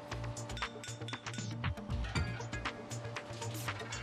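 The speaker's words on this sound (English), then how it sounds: "Then a tray for the ash and a cast iron grate are put into place." An ash tray and a cast iron grate are set into a stove, giving a run of metallic clinks and clanks over a busy factory background hum, fairly quiet and close.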